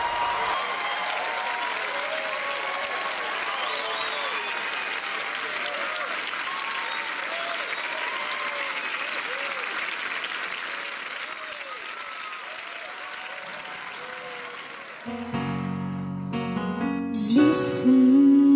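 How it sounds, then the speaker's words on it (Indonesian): Sustained applause from a talent show audition audience for an eight-year-old contestant fills the hall steadily, with cheering voices mixed in, before fading at the end as music starts. "kita kasih tepuk tangan buat Putri"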